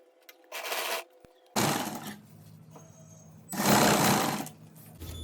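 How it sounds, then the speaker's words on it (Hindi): A sewing machine runs a line of stitching over the tacked seam of a ready-to-wear saree belt, whirring in three separate bursts of a second or so with quiet gaps between, close and fairly loud. "यहाँ पे हम पेस्टिंग के ऊपर सिलाई लगा रहे हैं"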